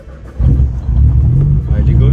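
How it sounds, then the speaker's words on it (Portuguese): A car engine cranks and then catches, a loud low rumble starting and running steadily close by, with a voice talking over it. "Vou ligar agora o carro pra vocês verem"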